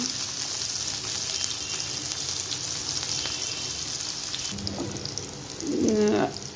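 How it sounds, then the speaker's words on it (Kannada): Onion frying in hot oil with mustard seeds in a kadai, a loud continuous sizzle and crackle filling the clip, swelling briefly near the end as the pan is stirred. "ಒಂದು ಈರುಳ್ಳಿ ಹಾಕಿದ್ರು ಈರುಳ್ಳಿ ಚೆನ್ನಾಗಿ ಫ್ರೈ ಮಾಡ್ಕೋಬೇಕು"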